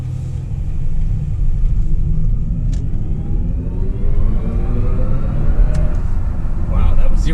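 A BMW electric or hybrid car, such as an i4 M50 or iX M60, accelerates hard from 0 to 60, with a steady low road rumble and a rising drivetrain whine heard from inside the cabin.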